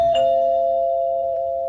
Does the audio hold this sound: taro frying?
no